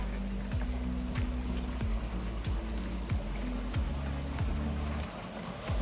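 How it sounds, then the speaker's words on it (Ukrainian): Mountain stream flowing on a hike toward a summit, a steady broad rushing wash of water that stays loud and continuous throughout, with occasional faint clicks and knocks over the top. "Там струмочок."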